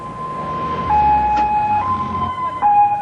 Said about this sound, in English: And so the ambulances make their deliveries